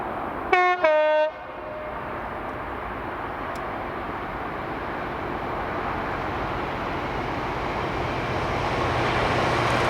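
A Class 66 locomotive, 66789, hauling a cement freight train from Mossend to Carlisle sounds two short horn blasts, then a steady rumble of wagons passing that slowly grows louder.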